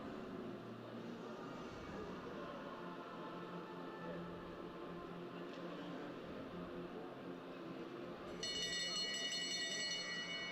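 A lap bell rings at an outdoor velodrome during a Madison track cycling race, its bright repeated tone cutting in near the end over steady crowd and race-commentary noise.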